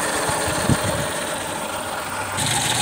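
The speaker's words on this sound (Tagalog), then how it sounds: "So maganda ang tunog ng makina guys, tahimik." A Mitsubishi 3G83 12-valve carbureted engine in a multicab idles steadily with its cover off, a smooth, even mechanical hum with a faint vibration throughout and no talking.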